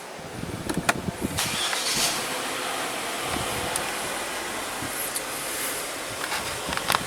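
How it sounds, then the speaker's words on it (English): A Genesis GV70 with an intermittent cylinder 1 misfire cranks and fires up, followed by a settling engine idle, with a few sharp clicks and knocks scattered across the recording, close by and fairly quiet. "So I'm gonna start the vehicle."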